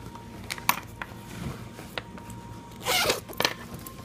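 A small zipper on the back pocket of a striped canvas shoulder bag is worked in short bursts, with quick rasping pulls and a longer, louder zip near the end, close and alone.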